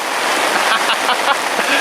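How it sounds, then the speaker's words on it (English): Rain falls at a lakeside venue, pattering loudly and close on a nearby surface in a dense, continuous wash with scattered heavier drops. "I think it might be raining."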